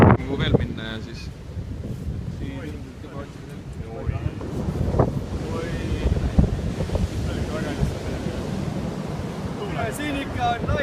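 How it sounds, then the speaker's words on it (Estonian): Ocean waves break along the Australian coast, rolling surf and heavy wind buffeting the microphone in a continuous broad roar, with a voice speaking briefly over it. "siin ikka on lained sellised"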